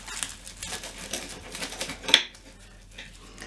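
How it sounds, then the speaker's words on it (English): A knife crunches through a baked cheddar bacon puff, with a run of small crisp crackles and scrapes building to one sharper snap near the end, quiet and close. "Now let's just cut one in half and see what it tastes like."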